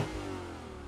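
A BMW M4 engine holds a steady, rich drone at high revs for a brief moment, loud and close, with no voices.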